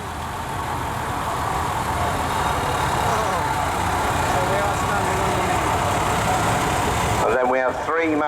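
A vintage Nuffield tractor carrying a transport box rumbles past in a parade at an agricultural show, its steady low engine drone loud and continuous, with a brief whistle-like sound near the end.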